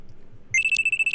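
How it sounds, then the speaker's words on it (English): A phone alarm in the Steins;Gate visual novel abruptly starts ringing after a short quiet stretch, producing a loud, bright electronic trill that pulses rapidly and keeps going. "I'm sitting on the couch when a loud alarm rings in my ears."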